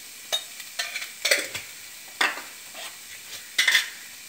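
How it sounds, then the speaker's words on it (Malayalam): Paneer pizza topping with spices is tossed in a pan, heard as a few sharp spatula scrapes and clinks against the metal over a faint, low sizzle, with quiet gaps between strokes. "ചെറുതായി വഴറ്റി കൊടുക്കുക."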